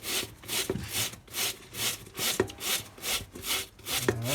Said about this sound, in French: Petite brosse. Bon, dans le sens des rainures, hein, bien sûr, pour enlever le plus gros.